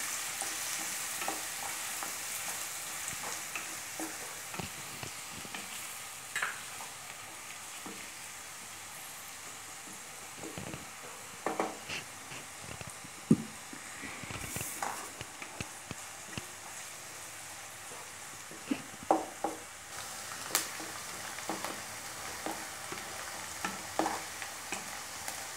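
Chopped onions fry in a pan for sarson ka saag, with a steady close sizzle and repeated scraping stirs and clicks of the spoon throughout.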